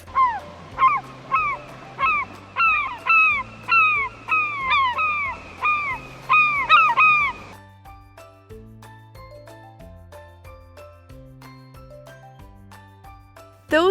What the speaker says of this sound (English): Those were seagulls